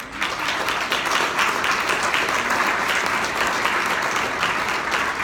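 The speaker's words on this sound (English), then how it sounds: "let's give our family members a round of applause." At a gathering of military service members and their families, the audience gives sustained, dense applause throughout, loud and even, with only a faint crowd murmur under it.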